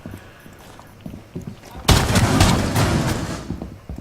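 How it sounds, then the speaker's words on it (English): Pistol fire in Rainbow Six Siege, heard first as a few light shots and then as a loud burst of rapid gunfire with a dense roar that fades near the end. "Again, pistol, pretty swift at putting those guys down"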